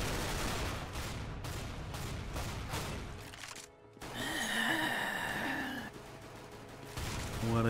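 Light machine gun fire in Counter-Strike: Global Offensive Arms Race, rapid repeated bursts up close, loud and dense, with a brief lull and a sharp sweep of game effects in the middle.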